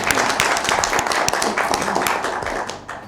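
An audience claps through an Easter special Christian family TV programme, a dense, even patter of applause holding steady for about three seconds.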